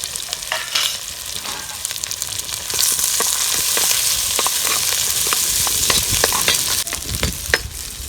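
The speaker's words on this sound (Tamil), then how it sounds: "வெங்காயத்தை போட்டு வதக்கிக்கலாம்." Onions sautéing in hot oil with fennel seeds in a pan for chicken curry, a steady close sizzle with repeated spoon scrapes and stirring clicks throughout, no voices.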